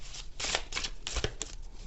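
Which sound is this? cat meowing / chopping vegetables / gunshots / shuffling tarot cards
shuffling tarot cards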